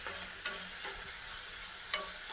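Onions sautéing in a pan for brinjal curry give a steady, soft sizzle with a few faint stirring scrapes, heard alone with no talk.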